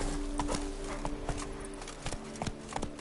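Hooves of Roach, the horse in The Witcher 3, clip-clopping in a quick steady rhythm, close and fairly quiet over a low ambient hum, with no voices.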